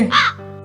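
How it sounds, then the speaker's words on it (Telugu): A single loud, close crow caw, harsh and nasal, that trails off quickly. It comes from a cartoon moral story about a cuckoo teaching a crow to sing. "కావు కావమనే శబ్దం వచ్చింది"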